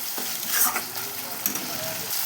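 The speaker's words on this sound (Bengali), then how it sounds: "ভালো করে মশলাটা কষিয়ে নেবো" Spice paste with turmeric and salt is stirred and sautéed in a pan for prawn malai curry, a steady close sizzle broken by scraping stirs and a couple of soft knocks.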